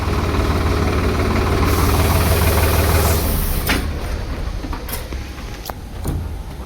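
An old tractor engine runs steadily close by, a low continuous rumble and knock that eases slightly after a few seconds, with a few sharp clicks and rattles near the end.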